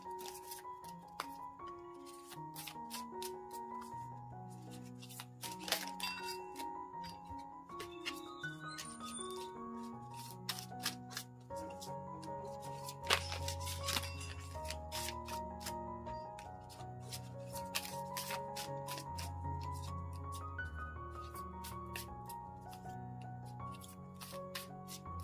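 Oracle cards shuffled by hand in soft, steady riffling and rubbing, continuous under a gentle tonal music bed, with a few sharper flicks standing out.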